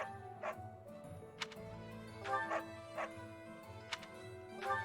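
A dog gives short, sharp barks and yips, several scattered in bursts over a quiet background with a faint steady hum, fairly close and moderately loud.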